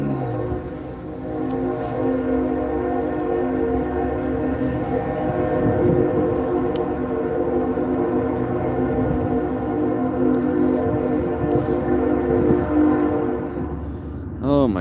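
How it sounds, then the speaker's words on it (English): A train passes an intersection with a long, loud, steady horn blast over rumbling rail noise, close by, sustained for many seconds with faint talk beneath. "That's the train. That's it right there."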